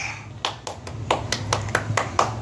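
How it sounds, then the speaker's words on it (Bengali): Hands clap about nine times in a steady rhythm at a family gathering at home. The claps are close and sharp over a low background hum. "হাততালি দাও"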